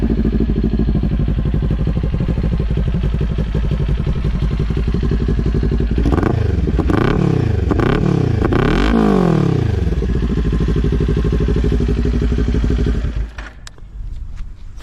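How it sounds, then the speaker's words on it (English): A Kawasaki Ninja 400 motorcycle fitted with a Leo Vince LV10 exhaust idles loudly up close, then gets several sharp throttle blips in quick succession before settling back to idle and cutting off near the end. "I'll start up the bike and give it some revs so you can hear what it sounds like."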